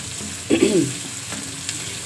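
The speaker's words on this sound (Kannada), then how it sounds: "ಅದನ್ನು ನಾನು ಈ ಕಡೆ ಒಗ್ಗರಣೆ ಮಾಡ್ತಾಯಿದ್ದೀನಿ ಇನ್ನೊಂದು ಸ್ಟೋವಲ್ಲಿ" Soaked chickpeas being tempered in a pan on the stove, giving a brief, loud sizzle and hiss as they hit the hot oil, then settling into a quieter, steady frying crackle.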